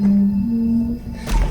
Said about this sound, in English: they hear what almost sounds like a loud wailing moan from somewhere very close by